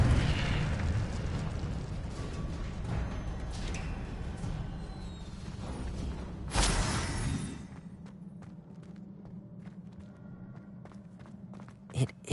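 An Incendio fire spell is cast in Hogwarts Legacy on PlayStation 5, a whooshing fiery burst amid a rumbling game soundscape, followed by quieter footsteps and a sharp pop at the end.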